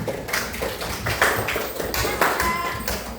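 A small group claps in a short, uneven burst of applause, fairly close, with a little speech mixed in.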